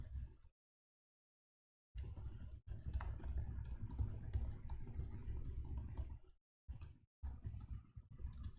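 Soft computer keyboard typing during a live online team session, with quiet bursts of rapid key clicks broken by short silent pauses and heard faintly at close range.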